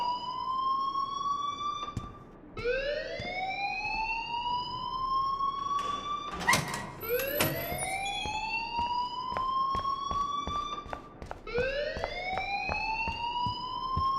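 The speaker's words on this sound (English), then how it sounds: "please turn off that alarm since that's your job" A school alarm in the video game Life Is Strange wails in repeated rising sweeps, each climbing tone restarting after a brief gap, loud and steady throughout with a few sharp clicks over it and no talking.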